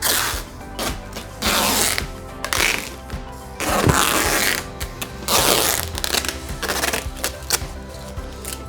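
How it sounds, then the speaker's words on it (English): Packing tape pulled off the roll and pressed onto wrapped canvas art, a series of loud, close ripping and crackling strips separated by short gaps. "have to do an extra layer of tape just to close the gap"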